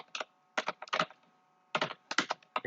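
Typing on a computer keyboard, two short bursts of quick clattering keystrokes separated by a pause, close and clear with no talk.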